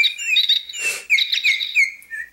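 Battery-operated fake toy birds modelled on a cardinal, blue jay, oriole and goldfinch chirp in bright, repeated electronic tweets and trills, close and clear, with a brief breathy rustle midway.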